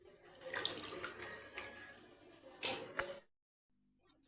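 Tap water runs steadily into a sink as mutton is washed, splashing and gurgling close by for about three seconds before cutting off abruptly, leaving near silence and a faint sound at the end.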